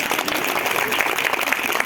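Applause from an audience gathered for a Mahashivratri celebration at a Delhi Brahma Kumaris service centre in Mohan Garden, a dense, steady wash of clapping filling the whole short stretch.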